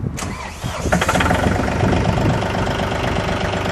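A Mahindra 4035 Power Shuttle tractor's diesel engine cranks, catches and settles into a steady, loud idle close by, with a continuous mechanical rumble and no talking.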